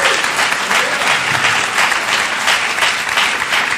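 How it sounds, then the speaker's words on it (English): Audience applause for interviewer Tracey Matisak at a live talk event, a steady, full wash of clapping from a large crowd, loud and continuous throughout. "give her a round of applause, please"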